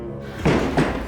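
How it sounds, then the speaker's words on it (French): A door slams hard twice in quick succession, two heavy, close thuds a third of a second apart over a low background hum. "On dirait que tu as claqué la porte assez fort."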